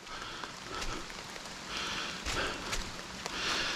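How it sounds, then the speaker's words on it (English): Rain falling on a wooded hiking trail near a tunnel at Clifty Falls State Park, heard as a steady close hiss with a few louder spattering bursts and no talking. "it starts raining while we're here"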